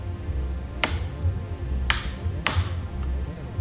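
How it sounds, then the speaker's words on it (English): Notched door hinge on a Snake Mountain toy playset clicking, three sharp plastic clicks spaced irregularly over a low background hum, close and distinct. "So the door hinge has notches, so it won't just swing open and close."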